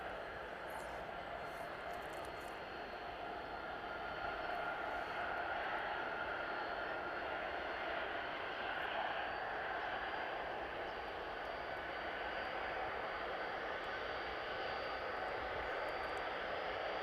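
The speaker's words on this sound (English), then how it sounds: "Not too often we get to see two Ryanair services depart at the same time." Ryanair passenger jets departing East Midlands Airport, a faint, distant, steady roar of engines that swells slightly midway and holds.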